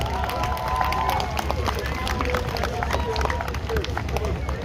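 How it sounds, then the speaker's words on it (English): An audience at a Pride event applauds with dense, steady clapping and crowd murmur while a voice speaks over the noise. "Let's have another round of applause for Casiano."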